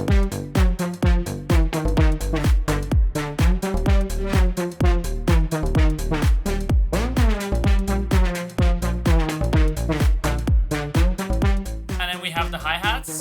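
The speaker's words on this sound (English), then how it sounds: "but a digital trumpet sound" A fat, wide digital synth horn with a trumpet-like tone plays in a pop song mix, with punchy rhythmic chords over steady drums and bass, loud and continuous throughout.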